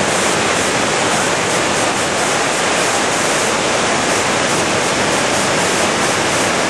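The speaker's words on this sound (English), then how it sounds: "This is a gorgeous waterfall." Coac Falls waterfall roars with a steady, loud, broadband rush of falling water, continuous and close, with no voices.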